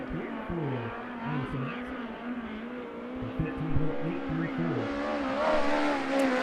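A USAC Western States midget race car runs on the Arizona Speedway racetrack with a sustained high-revving engine drone that rises and falls, loud and steady, with a voice talking over it.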